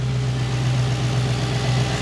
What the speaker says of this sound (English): Engine sounds pretty healthy.